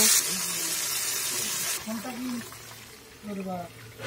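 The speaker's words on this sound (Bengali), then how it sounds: "ভাজা হয়ে গেছে, একটু জল দিয়ে দেব।" Water pours steadily into a hot pan of fried spices for a bean curry with a hissing gush, then fades as a voice talks over the remaining sizzle.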